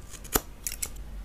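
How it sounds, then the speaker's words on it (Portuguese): Scissors snipping through a Samoyed dog's thick white fur during grooming, a few quick crisp cuts, one sharp and louder, then softer snips close by with no talking. "a tesoura não tá cortando muito bem"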